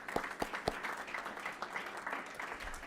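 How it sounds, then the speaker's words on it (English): Scattered clapping from a modest crowd, a few sharp claps standing out early, then a steady patter of applause continuing throughout. "Let's give everybody another round of applause"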